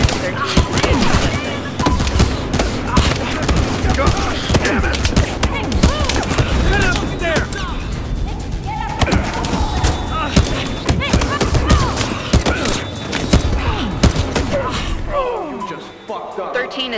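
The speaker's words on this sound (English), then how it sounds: "13 is responding to pistol and shotgun fire" Continuous heavy pistol and shotgun fire in a Battlefield Hardline shootout, dense overlapping loud shots and impacts with voices shouting throughout, easing only near the end.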